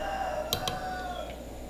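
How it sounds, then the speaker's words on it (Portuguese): A chicken crows in the background, a drawn-out wavering call, faint and somewhat distant, with a couple of sharp clicks from nearby over it. "a galinha ali começou a cantar"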